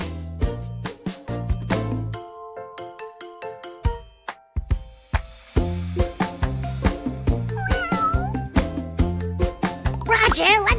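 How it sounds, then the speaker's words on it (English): A kitten meows several times, short bright cries that rise through the second half, mixed with chiming, tinkling music and a speaking voice between them. "What does the kitten say? That's right, meow!"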